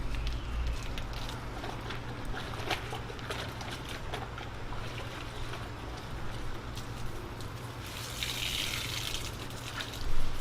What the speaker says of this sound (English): using the rinse bucket and squeezing out the dirty rinse water